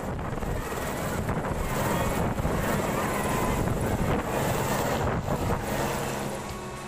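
A helicopter carrying a bride after her wedding roars steadily and loudly overhead, its broad rotor and engine wash mixed with wind buffeting on the microphone.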